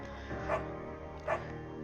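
Two short, close dog barks or yips about a second apart from the video game Firewatch, with a game music bed running steadily underneath.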